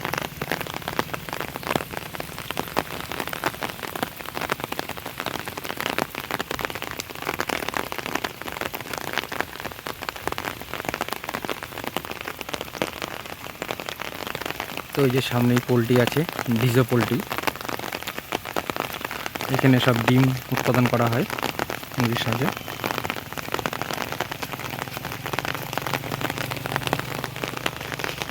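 Steady rain falls and patters on surfaces in a rural area near a poultry farm, a dense continuous hiss lasting throughout, while someone talks over it.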